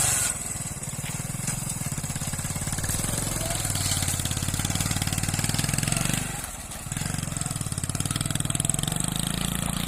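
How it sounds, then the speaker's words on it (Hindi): A motorcycle stuck in deep river sand rumbles with a loud, steady engine, dips and nearly dies for a moment, then picks back up and keeps running. "मोटरसाइकिल फिर से बंद हो चुका है जी।"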